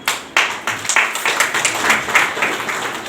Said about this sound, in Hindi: सही, तो ताली बजा दो।